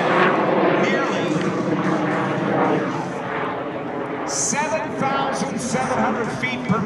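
A North American F-86 Sabre jet flies past at an air show with a loud, continuous roaring engine rush, while an announcer speaks over a public address system throughout.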